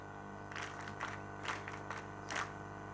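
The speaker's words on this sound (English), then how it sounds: "I think you need to clap for yourselves." Graduating senior police officers give a few scattered rounds of clapping at a ceremony, faint and uneven bursts over a steady humming background.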